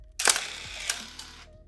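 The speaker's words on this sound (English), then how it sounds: "also my favorite shutter sound in the world" A medium format film camera fires its shutter once, a crisp mechanical clack followed by brief whirring and clicking, close and isolated in a quiet room.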